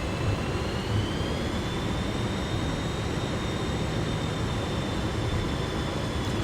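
Jet engines of a Fokker 28 airliner in a flight simulator game: a loud, steady roar with a high whine that rises slightly in pitch as thrust is pushed up, then holds.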